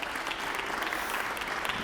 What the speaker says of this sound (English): So round of applause for the department.